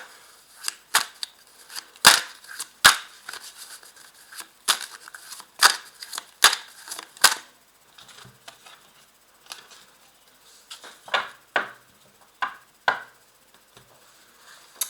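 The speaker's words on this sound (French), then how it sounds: "je vais rajouter chaque carte, et sur chaque carte, je vais rajouter un tarot de Marseille" Tarot de Marseille cards are laid out one by one, a close series of crisp slaps and snaps coming in quick clusters with brief pauses between, no voices.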